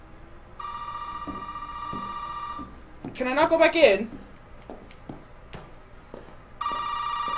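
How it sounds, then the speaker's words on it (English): Telephone ringing in the horror game Resident Evil 7: Biohazard played in PSVR: two long electronic ring bursts separated by a pause, with a player's voice and in-game sounds in the gap, then the ringing resumes. "And the phone's ringing again."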